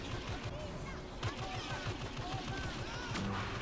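Rapid blaster gunfire from a Star Wars Battlefront battle, dense repeated bursts with explosions, loud and continuous under excited talking.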